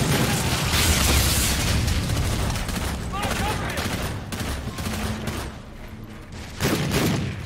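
In Call of Duty: Infinite Warfare, a shock grenade goes off amid a loud, sustained fusillade of gunfire and booms during a shipboard port assault, with heavy battle noise throughout and voices heard.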